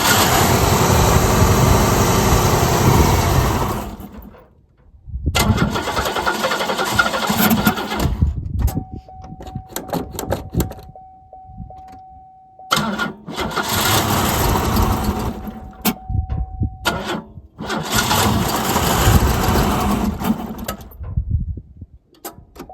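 A 1993 Oldsmobile Cutlass Ciera engine cranks and catches, then runs roughly in loud surging stretches, with a couple of cut-outs and restarts and a thin steady whine over part of it, close by and without talk.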